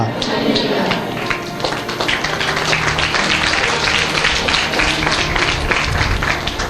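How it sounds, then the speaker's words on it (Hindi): Church congregation clapping during a morning Bible devotion, dense rapid pattering claps filling the room at steady volume, with some voices underneath. "I like this your clapping चटर पटर"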